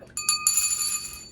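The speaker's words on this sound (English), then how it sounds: "Ring the bell." A bell rings at a trivia party: a couple of quick metallic dings, then a brighter strike that rings out with a clear, sustained tone.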